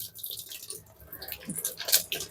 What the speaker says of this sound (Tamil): ஸோ அந்த ஈகோ டப் கிளீனிங் கொடுத்ததும் இல்லை தண்ணி வர ஆரம்பிச்சிருச்சு